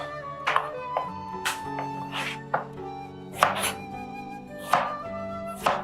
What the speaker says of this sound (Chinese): 我们把茄子切条，切成条